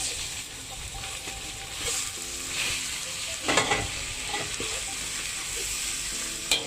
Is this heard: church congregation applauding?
no